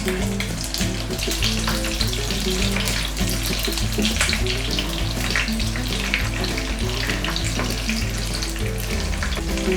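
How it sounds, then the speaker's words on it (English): Fish sizzles and crackles steadily in hot oil, a continuous close frying hiss alongside a repeating musical beat. "I'm frying the fish because I want to flavor the oil"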